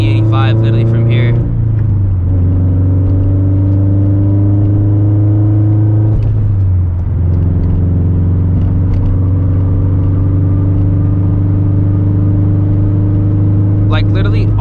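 A tuned stage 2 Toyota FRS running on E85 flex fuel cruises gently under 4,000 rpm, its engine a loud, steady in-cabin hum with a couple of gear-change dips and surges.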